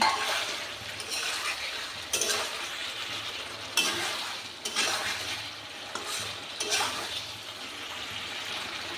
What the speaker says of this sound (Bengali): মাঝে মাঝে একটু একটু করে জল দিয়ে কষাতে থাকি